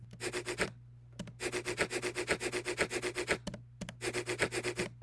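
Bubble wrap recording chopped into a shaker sample, with quick, evenly pulsing rustly strokes in three rhythmic runs separated by short gaps, close and moderately loud over a faint hum.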